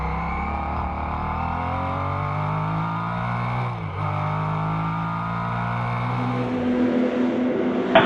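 A 1973 Penske-liveried race car is driven at speed at Rennsport Reunion, its engine a loud, sustained, steady roar that sweeps as it passes, with a gear change near the end and a sharp crackle at the close.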